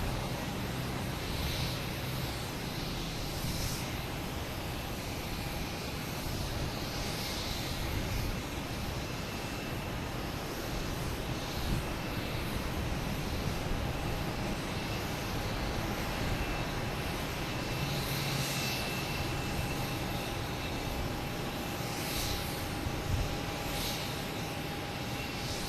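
A Delta Airbus A220 airliner arriving from Savannah at Boston Logan gives a steady, broad engine roar that holds at moderate loudness throughout, heard outdoors at a distance with no talking.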